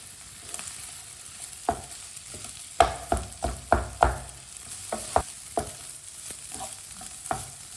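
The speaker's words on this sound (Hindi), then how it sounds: "चिकन डालेंगे, अच्छी तरह मिक्स कर लेंगे" Boiled chicken pieces are stirred through a pan with a spoon, giving a run of sharp scraping knocks in an uneven rhythm over a low, continuous sizzle. No voices.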